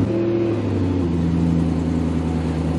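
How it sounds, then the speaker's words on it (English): A 2007 BMW E92 M3 engine after a cylinder 5 misfire fault was cleared runs at a steady, smooth idle, a close, even, low hum with no speech. "I can tell that the engine is running so much nicer"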